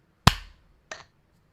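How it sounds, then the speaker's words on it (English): Sharp sync clap before a podcast recording, one loud crisp hand clap followed by a second, fainter clap a moment later, alone in quiet. "Let's do a sync clap."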